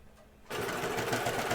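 A sewing machine stitching Hudson pants starts after a brief quiet moment and runs in a steady, close, buzzing hum.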